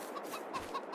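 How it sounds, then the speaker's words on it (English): Chickens cluck in short, repeated calls about every fifth of a second, close and moderately loud over a faint background hum. "Chickens."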